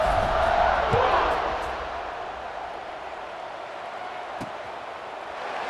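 Stadium crowd cheering in EA Sports College Football 26 during a kickoff after a touchdown drive, a loud sustained roar that swells early then settles into a steady broad wash of crowd noise.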